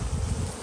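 Bees swarm from a backyard bait hive with a dense, continuous buzzing hum, close and loud, while they are brushed away.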